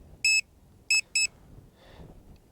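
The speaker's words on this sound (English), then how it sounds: "I can hold the function button down and stop that beeping." Three sharp electronic beeps from a Hubsan Zino Mini Pro drone controller, two short and evenly spaced after a first, high-pitched and clear over a quiet background, followed by a faint soft rustle.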